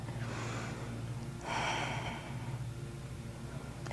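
A slow, audible breath drawn in and let out through the nose and mouth while holding a yoga pose in a core strength vinyasa flow, close and soft over a steady low hum, with no voice.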